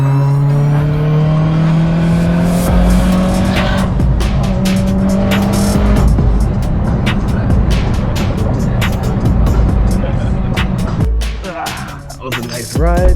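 A car drives and accelerates loudly from close range, the engine tone climbing steadily before shifting, with road and tire noise underneath and a brief dip near the end.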